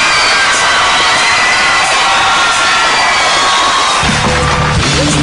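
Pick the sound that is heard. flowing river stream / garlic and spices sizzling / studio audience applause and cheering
studio audience applause and cheering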